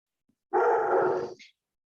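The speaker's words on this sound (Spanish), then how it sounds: "Disculpen los ladridos" A single loud, close dog bark, short and sharp, standing alone in otherwise silent surroundings.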